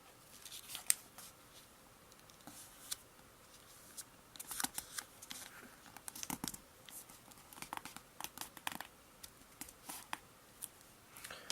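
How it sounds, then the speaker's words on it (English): Origami paper folded and creased toward a center crease: a string of crisp, close paper crinkles and sharp snaps, coming in irregular bursts with quiet gaps between, and no voices. "we're going to take this bottom edge here and fold it up to the center crease."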